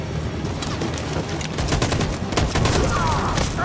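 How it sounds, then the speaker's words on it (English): Machine gun fire in the Detroit: Become Human video game, dense repeated bursts of shots crackling over a low rumble, growing heavier toward the end, with faint voices in the mix. "That machine gun is taking down everything that moves."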